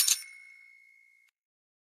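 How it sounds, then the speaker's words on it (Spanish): A single bright ding like a cash register or doorbell chime, used as a sound effect in an RKT beat, rings out and fades over about a second before a low thump enters. "Un sonidito, como una maquinita de hacer dinero, o como cuando tocan el timbre de tu casa"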